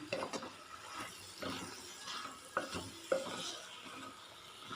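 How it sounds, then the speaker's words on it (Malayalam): Brinjal slices coated in masala are stirred in a pan for a Kerala mezhukkupuratti, with repeated scraping strokes and sharp spoon knocks against the pan over a soft, steady frying sizzle, close up and with no talk. "ഇതുപോലെ മസാലയെല്ലാം നല്ലോണം വഴുതനങ്ങയിൽ പിടിക്കുന്ന രീതിയിൽ ഇളക്കി കൊടുക്കുക."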